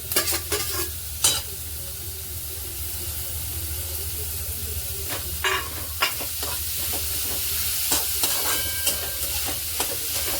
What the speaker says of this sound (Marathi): चांगलं मिक्स करून घ्यायचं आणि जे आपण पनीर किसलं होतं ना ते सुद्धा याच्यात टाकून द्यायचं।